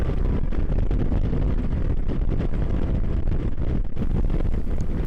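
Loud, continuous wind roar rushing past the microphone on a motorcycle ridden at speed on a mountain road, a dense turbulent buffeting that drowns out everything else.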